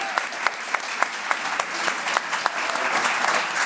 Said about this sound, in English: Another big round of applause for James Barnor